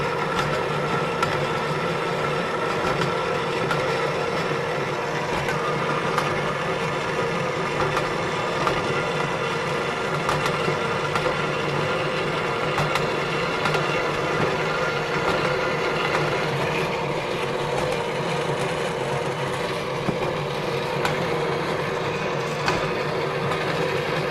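A bandsaw runs steadily through a five-foot cleaver, a continuous, fairly loud mechanical drone with a constant whine and no pauses or voices over it.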